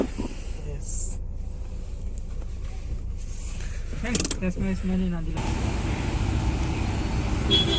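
A car rolls along after a CNG refill, its engine and road noise forming a steady rumble that swells louder in the last few seconds, with people talking over it.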